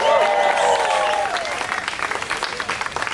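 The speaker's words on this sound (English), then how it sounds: "How about a round of applause?" A round of applause at a New Orleans wedding unity flame ceremony, clapping from the guests over a lingering high whistle-like tone at first, then crisp, dense clapping that trails on evenly.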